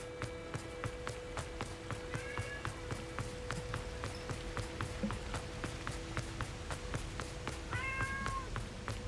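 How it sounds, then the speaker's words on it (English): A house cat meows twice, short rising calls several seconds apart, over steady background hum and a regular clicking pattern, with no talking. "Sorry if my cat's meowing at me."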